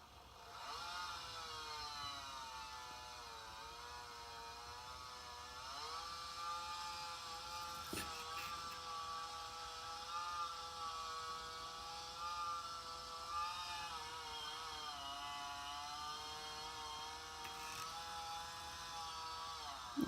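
A toy chainsaw effect from a Noch Micromotion model falling spruce tree drones steadily for a long stretch, a buzzing electronic motor tone that wavers slightly in pitch, moderately quiet.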